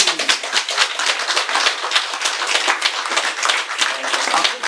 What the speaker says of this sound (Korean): 그거 박수 쳤겠어요